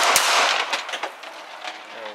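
A PM-63 submachine gun fires Silver Bear ammunition at a range, a loud full-magazine burst of several rapid sharp cracks at close range followed by quieter ringing and tail-off.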